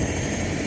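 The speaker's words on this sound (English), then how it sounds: "First time in a helicopter." Steady, loud helicopter rotor and engine noise recorded from inside the cabin during a flight over the Shackleton Glacier in Antarctica, a continuous wash with no speech.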